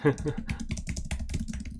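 Fingers typing on a computer keyboard in a rapid, uneven run of light clicking keystrokes, close by, with a faint low murmur underneath.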